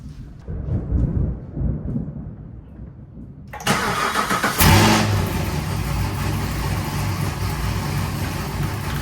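A car engine cranks and turns over, then roars to life and settles into a loud, steady idle close by.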